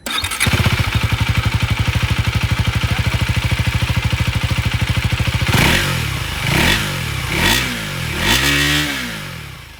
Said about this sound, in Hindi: चलिए दोनों ही बाइक की एग्जॉस्ट साउंड में आपको सुना दूं